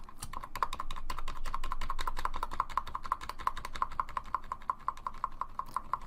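Rapid, evenly spaced keystrokes on a computer keyboard, from repeated Shift and arrow key presses, tapping in a steady rhythm close to the microphone for several seconds with no talking.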